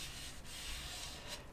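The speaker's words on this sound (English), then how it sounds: "hear that slight texture that this has got. If I rub my fingers across it." Close, quiet rasping as fingers rub back and forth over a slightly rough sanded paint finish on a 1/48 scale model Tornado GR1 kit, with two brief stronger strokes.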